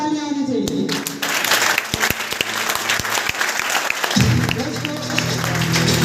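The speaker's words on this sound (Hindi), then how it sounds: "जोरदार तालियां होनी चाहिए।" A motivational business gathering breaks into loud audience applause, dense clapping with a few sharp individual claps and sustained tones cutting through, while a voice rises over the crowd near the end.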